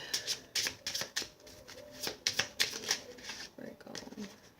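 A Spanish card deck is shuffled by hand in quick riffling bursts, soft crisp flutters and clicks coming in uneven clusters, quiet and close.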